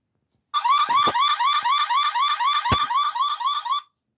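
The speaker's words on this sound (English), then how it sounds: "Let's start with alarm / horn." A faulty 2011 Road Rippers 1957 Chevy Bel Air toy car alarm wails in a rapid, repeating electronic warble for about three seconds, with a couple of sharp clicks partway through.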